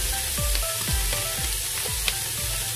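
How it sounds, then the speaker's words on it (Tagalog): Carrots and potatoes sauté in a hot pan with a steady close sizzle, and a spatula scrapes and stirs in a regular rhythm about every half second throughout. "Sinod natin yung ating carrots at saka yung ating patatas. Sautein lang natin saglit kasi matigas siya."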